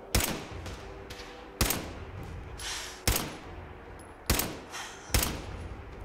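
Five loud, sharp gunshots in Fallout 4, fired one at a time at roughly even intervals of just over a second, each with a short echoing tail over low background ambience.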